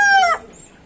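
A hen gives a single loud, brief squawking call close by, then quiet.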